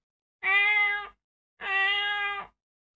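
A person imitates a cat's meow with their voice: two drawn-out, clear, tonal meows about a second each, separated by a short pause, with no other sound around them.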